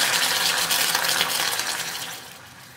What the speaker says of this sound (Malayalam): ഈ സ്റ്റീലിൻ്റെ പാത്രമായതുകൊണ്ടാണ് ഇതുപോലെ സൗണ്ട്